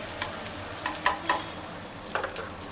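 Masala and spices fried in oil in a pan for mutton biryani, a soft low sizzle with a few scattered stirring scrapes and clicks, close and fairly quiet, with no talking.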